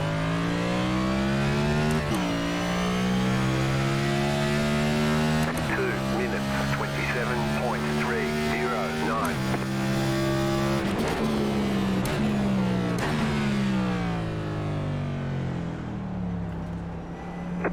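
A NASCAR race car engine roars through the Circuit of the Americas in the iRacing sim, droning loudly and continuously with repeated downshifts and revs through corners while someone talks over it.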